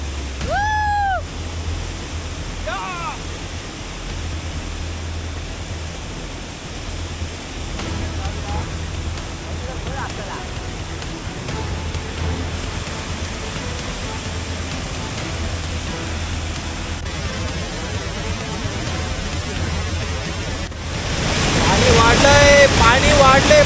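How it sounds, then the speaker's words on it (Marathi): A large hidden forest waterfall swollen by rain roars as a constant broadband rush, growing louder toward the end, with a voice and a few brief cat-like squeals heard over it. "केवढा मोठा वॉटरफॉल भेटलेला आहे बघा. हा हिडन वॉटरफॉल"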